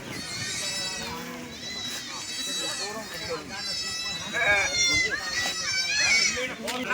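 Goats bleat repeatedly inside a netted pen, many overlapping calls rising and falling close by, pushing at the netting as if trying to break out, with someone talking over the noise.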